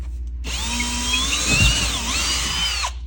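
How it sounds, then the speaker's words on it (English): A power drill bores into a household wall during TV mounting, a loud steady whine that kicks in abruptly, wavers in pitch as it bites, then cuts off after a couple of seconds. "I'm just drilling for fun now."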